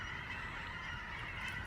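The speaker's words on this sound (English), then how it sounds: "The Canadian geese, they come into, the flocks come into the field behind my house." A flock of Canada geese coming into a field gives faint, distant honking calls that blend into a soft, continuous chorus.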